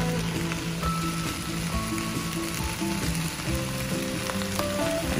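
Tofu and vegetable fried rice stir-fries in a pan, a steady close sizzle and clatter running throughout beneath prominent background music.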